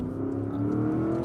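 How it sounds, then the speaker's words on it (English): A 2021 Porsche Cayenne GTS exhaust drones steadily from inside the car while cornering quickly, a loud continuous engine note with a slight rising pitch. "And then the exhaust, it's so good."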